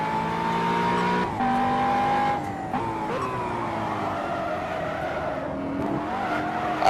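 A race car in the Simraceway racing video game drives hard, its engine a continuous droning whine that rises and drops with gear shifts, with occasional tire squeal, loud and steady throughout.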